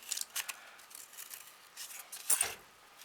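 Scissors cut through folded paper in a few short crisp snips, close and fairly quiet, alone with no talk.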